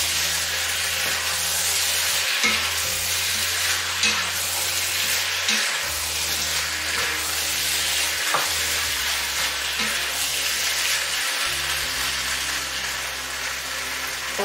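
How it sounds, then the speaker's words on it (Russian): Meat and potato pieces fry with two tablespoons of tomato paste in a pan, giving a loud, steady sizzle with occasional stirring scrapes, continuous and close throughout without any voices. "И продолжаем жарить до тех пор, пока не запахнет жареными помидорками."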